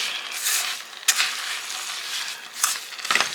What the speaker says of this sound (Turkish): Şimdi bir kilo şeker ekledim şöyle bir yandan da karıştırayım